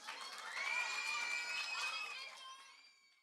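Children at a Year 6 graduation ceremony cheer and shout with high excited voices, a sustained crowd roar that swells, holds, then fades away.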